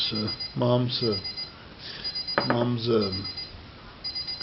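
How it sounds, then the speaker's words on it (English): An alarm goes off in a kitchen, giving short, high, repeated beeping bursts that come and go beneath someone talking loudly nearby. "The alarm's gonna make me nervous though."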